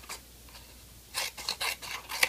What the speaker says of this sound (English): And I took some scissors